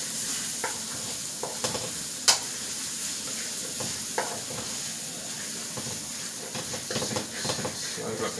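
Pumpkin choka sits in a hot pot with a steady hissing sizzle while a wooden spoon knocks and scrapes, mashing it in scattered soft thumps close by.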